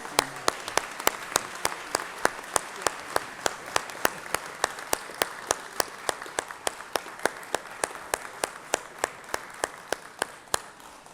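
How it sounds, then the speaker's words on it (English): Sparse, steady applause in a Georgia Senate chamber for visiting Georgia National Guard guests: a small group clapping at an even rhythm that slowly fades. "let's give them a round of applause here"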